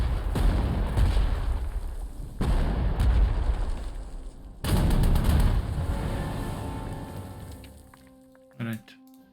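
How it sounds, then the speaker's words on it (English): An artillery barrage in the World War II strategy video game Panzer Corps 2: several loud booming impacts hit one after another, each with a long rumbling decay, then a short final pop near the end. "we are going to open a barrage"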